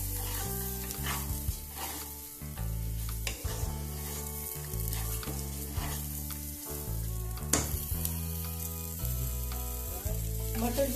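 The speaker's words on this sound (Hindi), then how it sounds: "ये हमने आधा कटोरी मटर लिया है, इसको हम डाल देंगे। इसको भी थोड़ा सा भूनेंगे हम।" Green peas sizzling as they fry in a pan, a steady crackling sizzle running under background music with stirring sounds.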